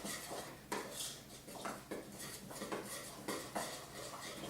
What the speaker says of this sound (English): So now I'm going to mix around the dry ingredients.